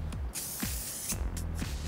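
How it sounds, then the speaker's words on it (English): Wax Blast hair spray sprayed onto hair for an updo, two long hissing bursts from the can with brief pauses and small handling sounds in between, close and clear. "just spraying that all over the hair."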